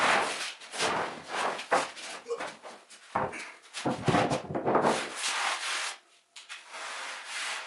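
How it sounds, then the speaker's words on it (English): A sharpened putty knife, honed like a card scraper, scrapes along a wood glue line on live-edge cabinet door joinery, making a series of close, dry rasping strokes in bursts with short pauses. "I use a putty knife sharpened like a card scraper to level up the faces at the glue line"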